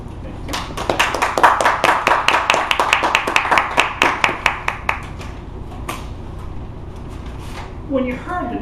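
An audience at a Toastmasters-style meeting claps to welcome a speaker: a burst of rapid, fairly close hand claps builds and then thins out over about five seconds, followed by a few scattered claps and faint room noise.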